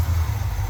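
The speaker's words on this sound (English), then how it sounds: "I'd say it's idling fine enough" A 1966 Dodge Coronet engine idles with a steady low rumble and a broad hiss over it, recorded close up and alone for a brief moment while the car has a leaking power valve.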